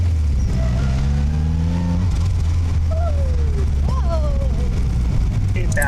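A turbo kit car with a chain drive and a light flywheel accelerates hard. The engine note climbs in repeated rising sweeps, loud and close from inside the car, with voices faintly underneath.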